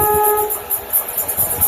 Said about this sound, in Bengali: বর্তমানে ট্রেনটি এখন Mirzapur Bankipur railway station cross করছে।